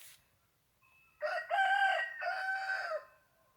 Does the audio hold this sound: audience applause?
no